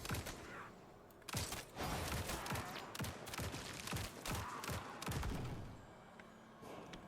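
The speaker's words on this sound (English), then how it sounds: "Now we're firing 3 bullets." Rapid gunfire in the Grind Survivors video game, a fast run of sharp repeated shots bursting in clusters over a rumbling background, fairly quiet overall with brief gaps between volleys.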